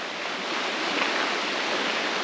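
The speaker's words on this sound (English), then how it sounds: "fast-flowing river, which you can probably hear in the background" A fast-flowing, very clear mountain river near Sieber in the Harz rushes steadily beside a walking path, a continuous broad roar without breaks.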